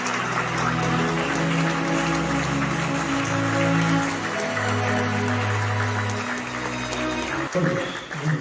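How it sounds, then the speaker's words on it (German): Wedding guests clap loudly in a continuous rustling wash, layered over a low sustained musical tone that shifts pitch, with a sharp bump near the end. "wir ganz laut klatschen."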